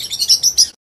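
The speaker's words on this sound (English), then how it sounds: "Lovebird." Lovebird calls: four quick, shrill high-pitched chirps in a rapid burst, close and clear, ending abruptly in silence.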